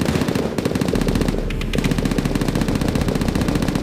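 Rapid automatic gunfire from a video game battle, a continuous rattling burst of closely spaced shots that runs nearly nonstop for a few seconds.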